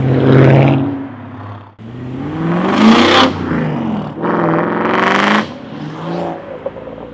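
A BMW E39 M5 with its S62 V8 engine revs hard in several loud, close bursts, the pitch climbing and falling between short pauses.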